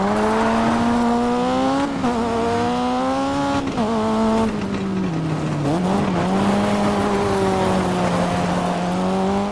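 Race car engine in the Dirt 2 racing game (2009), a loud, steady tone rising and falling as the car shifts gears and revs, briefly dipping around midway, with faint tire noise underneath.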